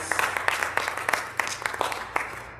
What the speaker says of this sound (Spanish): Denle un fuerte aplauso al Señor y le damos a Alex.